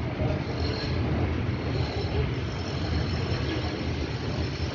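A steady rumbling light rail train passes, a continuous roar of rail wheels and engine noise with no breaks, moderately loud.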